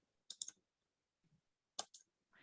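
Computer mouse clicking during Photoshop work, a few faint, sharp clicks in small pairs separated by quiet gaps.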